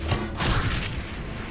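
A grenade explosion in the video game Shadowrun Hong Kong, one short booming blast with a broad rumbling decay, heard alone.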